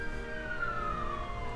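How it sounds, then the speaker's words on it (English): A police car or ambulance siren wails in one steady, sustained tone that slowly falls in pitch, fairly loud against a low background rumble, with no talk. "Police car, ambulance."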